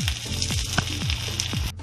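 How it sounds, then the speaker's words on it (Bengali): A medium-sized chopped onion fries in hot oil, giving a close, continuous sizzle that stays steady throughout, with a few soft low knocks from stirring. "একটা মাঝারি সাইজের পেঁয়াজ আমি কুচিয়ে নিয়েছি, এটাকে একটু লালচে করে ভেজে নেব।"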